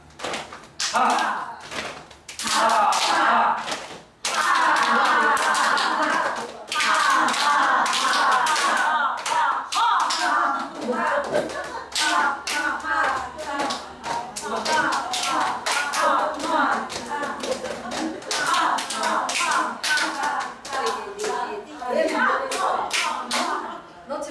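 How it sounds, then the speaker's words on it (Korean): Group of people clapping hands together at a Buddhist dharma gathering in Ulsan, a dense run of claps with thumps and voices mixed in, continuing steadily for about twenty seconds. "박수 치면 시작."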